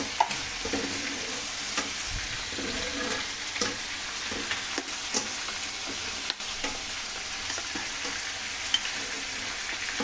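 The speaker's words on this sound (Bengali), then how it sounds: "মিক্স করে নিচ্ছি" Biryani ingredients, including ground cashew and almond paste, are stirred and mixed in a pan, giving a continuous low sizzle broken by soft scraping and tapping from the utensil over ten seconds.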